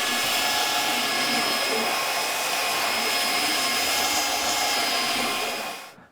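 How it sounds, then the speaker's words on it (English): A belt sander grinds steadily across a wooden floor transition strip on a workbench, a loud continuous whine and rasp that holds throughout and then winds down at the very end. "Now it's all sanded with the belt sander."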